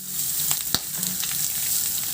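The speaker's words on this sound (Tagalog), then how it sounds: "Igisa ko na rin yung bawang. Ihalo lang hanggang sa maglabas ng aroma." Garlic sizzles in a wok beside pushed-aside pork, a steady bright frying hiss with a few sharp spatula clicks and scrapes as it is stirred, close and alone without voices.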